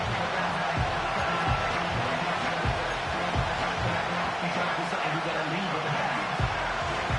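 A football stadium crowd roars steadily at a Chiefs vs Texans game late in the fourth quarter, a dense wash of cheering and noise that holds for several seconds with no clear breaks.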